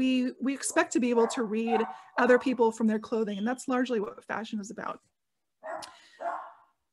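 A dog barks in the background of a home, its sharp yelps faint under a person's continuous talking, with a short burst audible in a pause near the end.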